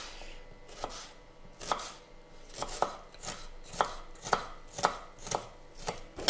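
A knife chops shallot on a cutting board, about seven crisp, evenly spaced strikes landing roughly every second, close and quiet with no talk.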